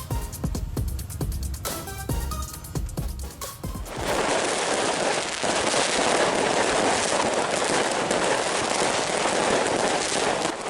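New Year fireworks burst over a city crowd at the 0 km point in Yogyakarta, where trumpets also sound. Music plays first, then dense, loud crackling explosions pour out continuously.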